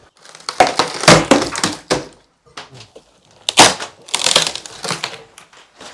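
A crowbar prises an old house window out of its frame, producing bursts of cracking, crunching wood and glass in two loud clusters with quieter scrapes between.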